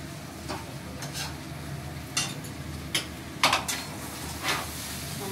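Maggi noodles frying in a pan give a soft, steady sizzle, broken by several sharp scrapes and clinks of stirring against the pan.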